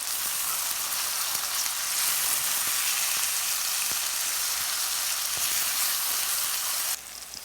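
Tomatoes and turmeric powder being stirred in a Le Creuset balti dish, a steady close sizzle and frying hiss running throughout with faint scrapes of the spoon, no voices.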